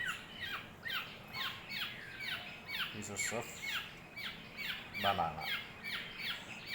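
A baby bird squawks repeatedly while being hand-fed pieces of banana and papaya, giving rapid, harsh, rising calls in quick succession, with a person speaking quietly nearby.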